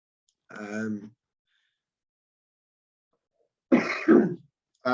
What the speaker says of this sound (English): Sorry about that, I've got a bit of a cough.